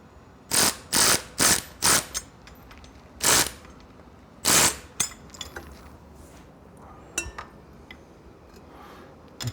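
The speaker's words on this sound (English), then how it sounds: "Get back to the 16 millimeter socket, the top nut bolt." A ratchet with a 16 mm socket works the top nut of an engine guard on a Triumph Scrambler 1200 X, with several loud close clicking bursts in an uneven rhythm followed by fainter clicks.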